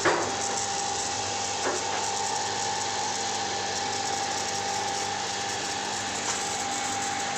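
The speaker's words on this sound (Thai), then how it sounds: "แต่ว่าปั๊มทำงานมันไม่ดูดน้ำ" A steady mechanical hum from a water pump running without drawing water continues with a constant tone and no change in load, fairly close and moderately loud, with no voices.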